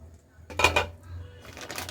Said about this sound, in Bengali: এবার ঢাকনাটা দিয়ে দিচ্ছি